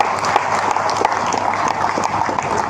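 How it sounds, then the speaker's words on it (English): A live audience at a 50th anniversary celebration gives a steady round of applause, dense clapping sustained throughout with faint voices mixed in. "let's give them a round of applause"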